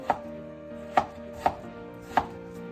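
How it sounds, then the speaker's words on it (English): A knife chops warm boiled potatoes on a cutting board for potato salad: four sharp, close strikes spaced unevenly with short pauses between, and no voices. "So we have potatoes here that are still warm, boiled. We're gonna chop them up, put them in a bowl."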